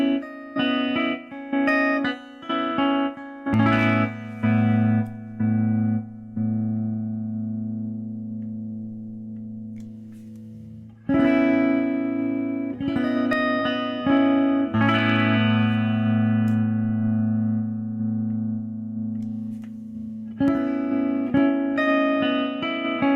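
Electric guitar through a Zvex Sonar tremolo pedal on its square-wave setting with reduced depth: sustained chords chopped into a choppy, on-off pulsing rhythm, a few strummed chords ringing out in turn, loud and close with no talking.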